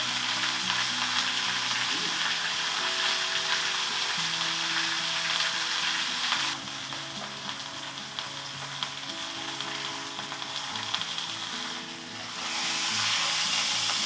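Roast beef browning in a hot pan, a steady loud sizzle and fry crackle running continuously with slight dips in intensity, no voices over it.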